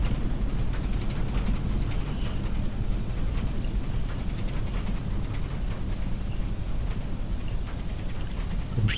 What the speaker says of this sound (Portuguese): Não sei se vocês conseguem ouvir aí pelo YouTube o som do trem de aterragem, mas está muito bom